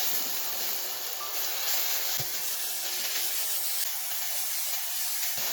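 Mapo tofu ingredients stir-fry in a hot wok with a steady loud sizzle and hiss that continues evenly throughout, alone with no talk.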